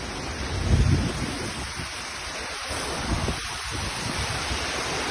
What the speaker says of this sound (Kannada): ಸಿಕ್ಕಾಪಟ್ಟೆ ಗಾಳಿ, ಮಳೆ.